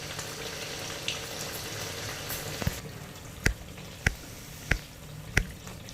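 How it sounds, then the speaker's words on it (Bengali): Malpua batter of maida and suji fries in hot oil. A faint, continuous sizzle is broken by a few sharp pops and spits, roughly once a second toward the end, with no talking. "মাঝে মাঝে দেখে নেওয়া হচ্ছে খুন্তির সাহায্যে নিচের অংশটি পুরোপুরি ভাজা হয়েছে কি না"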